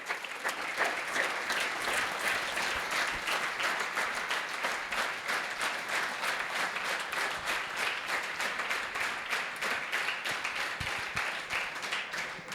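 A large crowd of young people at a community gathering in Ghatkopar gives sustained applause, dense continuous clapping at an even level for over twelve seconds, with no speech on top.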